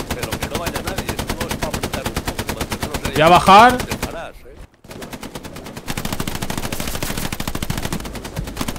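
Rapid machine-gun fire rattles in long, steady bursts during a Hell Let Loose World War II battle, continuous and loud, with a brief gap; a player speaks briefly partway through.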